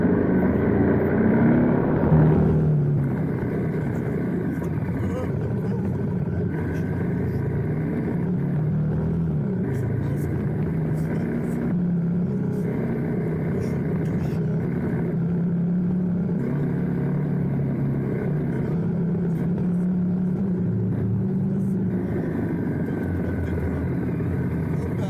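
Voge Rally 300 small trail motorcycle riding off-road on dirt, its single-cylinder engine droning steadily with shifts in pitch as the throttle changes, close and continuous, with wind noise over the top.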